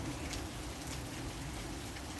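Rain falling around an old porch surrounded by trees, a steady, soft hiss of drops on surfaces, even and unbroken with no voices.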